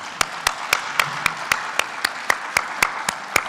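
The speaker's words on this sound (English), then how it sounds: "I want us all to give them a big round of applause" A small group claps in slow, even unison at an app launch, about a dozen sharp, evenly spaced claps, close and distinct, with faint murmuring underneath.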